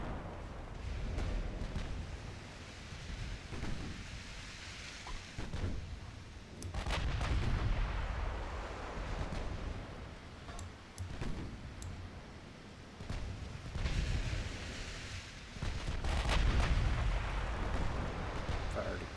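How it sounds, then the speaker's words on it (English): Six-inch naval guns fire again and again in a naval battle in the Ultimate Admiral Dreadnoughts video game, heavy booming salvos rolling one after another at irregular intervals over a constant low battle rumble. "Our 6-inch guns are opening up."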